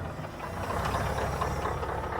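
A Scania semi truck with a trailer hooked behind it idles with a steady, low diesel rumble and a faint knocking texture, continuous and moderately distant.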